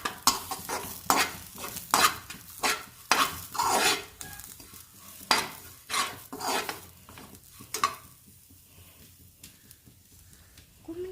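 Garlic roasting with grated coconut in a pan over a medium flame, heard as a series of rhythmic scraping stirs with a soft sizzle underneath, close and moderately loud, then fading to quiet near the end.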